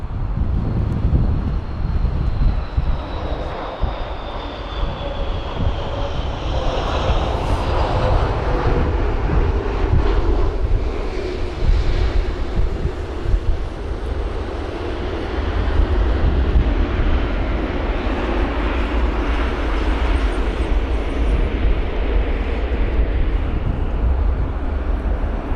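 Iberia Airbus A330-300 airliner at London Heathrow on a windy day, a loud roaring jet engine rumble that sweeps past with a falling whine, under gusty wind buffeting the microphone.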